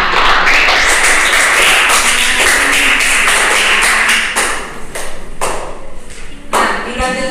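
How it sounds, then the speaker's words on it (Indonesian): A classroom group gets a round of applause, a dense wash of many hands clapping for several seconds with a voice talking over it briefly. "Kita berikan aplaus untuk kelompok"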